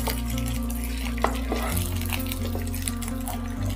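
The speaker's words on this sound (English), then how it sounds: "Mix it." Mushroom Manchurian ingredients being stirred and mixed in a pan, a steady close scraping and stirring with faint sizzling and clinking of cookware throughout, no talking.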